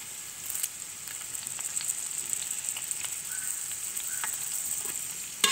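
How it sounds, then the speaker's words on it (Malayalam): Onions and grated coconut sizzle in a hot pan for beef ularthiyath, a steady bright frying hiss with occasional soft pops and stirring scrapes, close and continuous. "ഉള്ളിയൊക്കെ നന്നായി വഴണ്ട് തേങ്ങക്കൊക്കെ നന്നായി മൂത്ത് വരണം"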